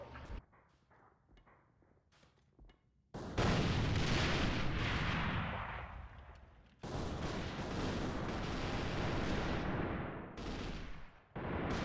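A grenade blast in a multiplayer video game: a sudden loud roaring burst that swells, fades, then surges again as a second sustained rumble, preceded by quieter game noise and short sharp pops.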